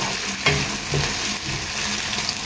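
Tomatoes stirred into a fish curry masala frying in a pan, with a steady sizzle and a few soft scrapes of the spoon, close and alone without talk.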